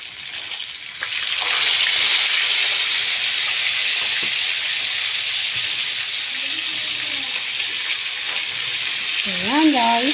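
Sautéed tomato and egg sauce for sarsyadong tilapia sizzles and bubbles steadily in a pan, a continuous close frying hiss with a brief spoon stir near the end.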